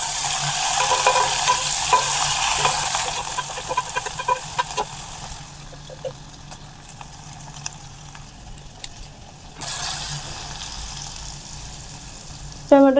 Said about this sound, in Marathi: टोमॅटो आपल्याला इथे छान असं मऊ होईपर्यंत परतून घ्यायचं आहे